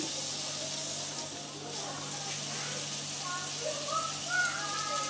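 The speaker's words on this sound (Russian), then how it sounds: "Разогреваем масло и добавляем сюда лук. Чуть-чуть его обжарим." Onion fries in heated oil, a soft continuous hiss and sizzle with light crackles and a few faint higher squeaks near the end. No one talks.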